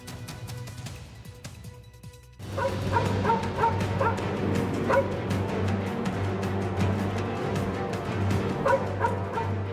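Dogs barking in Jaipur, Rajasthan, a run of repeated yips and barks at moderate distance over a steady low hum and street noise, starting after a quieter opening.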